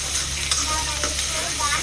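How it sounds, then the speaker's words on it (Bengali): Ginger and garlic fry in hot oil in a pan, giving a steady, close sizzle with faint stirring scrapes throughout. "আদা রসুনটা একটু ভেজে নেব।"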